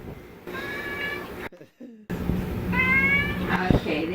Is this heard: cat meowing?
yes